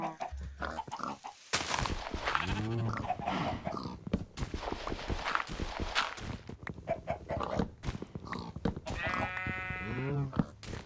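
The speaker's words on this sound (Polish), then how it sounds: "Kolejna owca" Sheep bleating in Minecraft, a short synthetic baa heard near the end over continuous talk and game sounds, with another animal call earlier in the clip.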